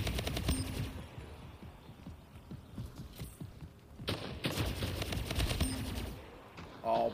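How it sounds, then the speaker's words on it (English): Bursts of rapid plasma rifle fire in a video game, clustered into rattling volleys at moderate loudness, with short pauses between them and brief mechanical clicks. "Oh, plasma rifle is it"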